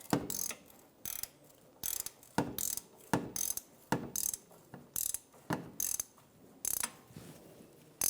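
A bolt on a 2007-2011 Toyota Camry front lower transmission mount is snugged down with a ratchet, giving about a dozen sharp clicking bursts in a steady rhythm, close and alone.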